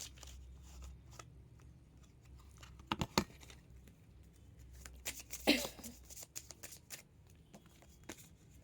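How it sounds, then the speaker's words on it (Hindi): Tarot cards are shuffled and drawn from a deck, soft quiet papery rustles and slides with a couple of brief louder card flicks over a low room hum. "यहाँ से भी ले लेते हैं 2 कार्ड।"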